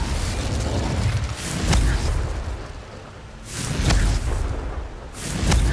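Confringo spell explosions in Hogwarts Legacy, several loud booming blasts arriving at irregular intervals, each a sharp crack followed by a rumbling decay, with spell-casting effects between them.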